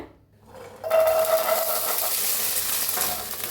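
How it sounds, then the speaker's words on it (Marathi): Peas roasting in a hot pan for matar paneer, starting with a brief quiet lull before a loud, steady sizzle kicks in and keeps crackling close up, with no voices. "मटर भाजून घेऊया"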